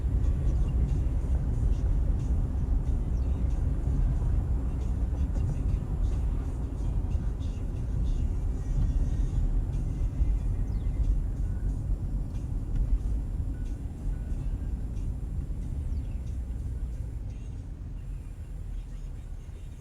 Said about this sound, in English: I'm just looking through this traffic.